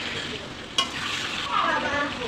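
2.5 kg of broiler chicken meat is stir-fried in oil for tehari, giving a steady sizzle with a spatula scraping and clacking against the pot, fairly close and continuous.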